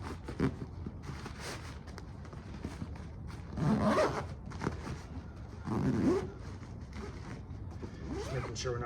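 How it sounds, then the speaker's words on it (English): Zipper on a bag holding a folded four-person pop-up blackout tent being pulled closed, with two louder rasping zip strokes among softer handling and rustling, close by. "Zippers on this end."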